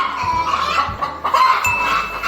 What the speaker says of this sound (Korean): 재래닭.